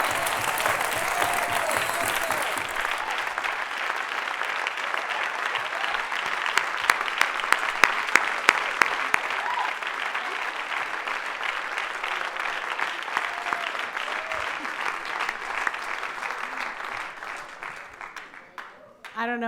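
A large audience claps and cheers at a faith community fall event, sustained dense applause at full volume that fades toward the end.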